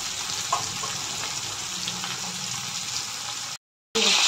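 Pieces of katla fish frying in hot oil in a pan, giving a steady, close hiss and crackle that runs almost without a break, cut off by a brief silent gap near the end before resuming.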